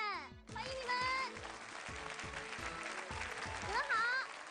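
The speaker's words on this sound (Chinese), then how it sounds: "让我们用热烈的掌声欢迎他们，欢迎你们。" Studio audience applause welcomes toddlers aged 28 to 30 months and their parents on a CCTV children's TV show. The clapping is steady and full throughout, with a presenter's voice speaking over it.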